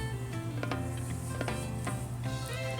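Garlic goes into a hot pot of Jamaican curry goat with dehydrated onion flakes, giving a steady close sizzle with a few sharp utensil scrapes and clinks against the pot.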